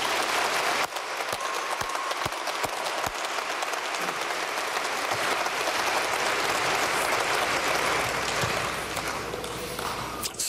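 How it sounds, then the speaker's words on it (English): An audience at a Billings West High School commencement claps in sustained, dense applause that stays loud and even for the whole stretch, with a few sharper claps near the start. "Please join me in giving them a round of applause."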